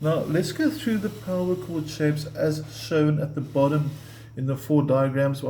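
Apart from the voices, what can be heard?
No everyday noise stands out behind the speech.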